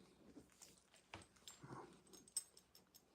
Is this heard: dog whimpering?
yes